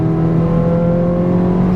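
A Ford Fiesta ST hot hatch engine revs hard under acceleration in second gear, a loud, steady, close-up drone with strong harmonics that holds through the whole stretch without a break.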